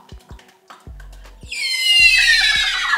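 Horses at the Palio di Siena race in Siena's Piazza del Campo: a few clip-clop hoof taps, then a loud, close, shrill whinny that rises and trails off over the last second.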